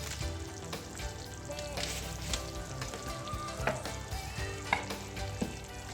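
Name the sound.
chopped onions frying with chicken korma in yogurt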